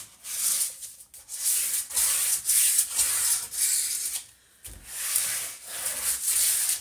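Paper is burnished by hand during a mini album build, making soft, repeated rubbing strokes in a steady back-and-forth rhythm, close and fairly quiet, with a short pause midway.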